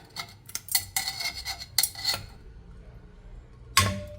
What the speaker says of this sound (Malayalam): നമുക്ക് ഈ മട്ടൻ ഇതിൽ നിന്ന് മാറ്റാം.